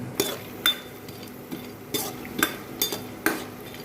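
A spoon scraping and stirring onion rice in a pan, with several sharp clinks and scrapes spaced irregularly over a faint background, close and fairly quiet, with no talking.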